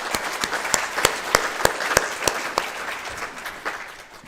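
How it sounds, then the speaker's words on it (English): Church congregation applauding during a service, a dense wash of clapping from many people with distinct sharp claps cutting through, gradually thinning out toward the end. "A big round of applause for everybody."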